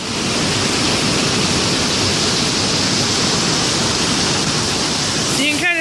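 Mountain stream rushing over falls in Glacier National Park, a loud, steady broadband roar of water that fills the whole span without a break; a brief tonal sound rises near the end.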